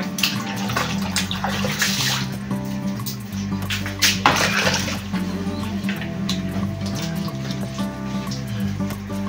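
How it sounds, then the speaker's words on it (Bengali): Water splashing and pouring while a street dog is bathed, a continuous busy wash of sloshing and tap-like flow with scattered louder splashes, close and alone without talk. "সুন্দরী স্নান করো করো।"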